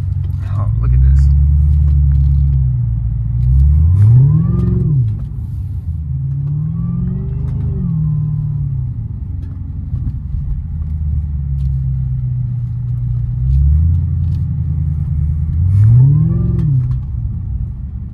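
Supercharged Cadillac CTS-V driven downtown, its engine rising and falling through several revving pulls with supercharger whine over a deep exhaust rumble, heard from inside the car.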